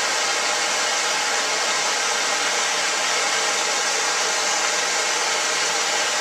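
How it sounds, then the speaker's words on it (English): A propane torch heats a nut on the end of a threaded part for a homemade pulk sled, giving a steady close roaring hiss that holds unbroken and loud the whole time. "You can get a propane torch or a heating source and just heat that nut up on the end."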